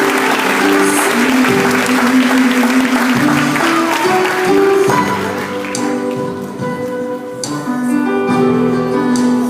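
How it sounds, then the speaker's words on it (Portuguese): Congregation applause during a Portuguese-language evangelical worship service, a steady wash of clapping over sustained musical tones that carries on loudly throughout, easing slightly partway before swelling again. "Você pode aplaudir o Senhor"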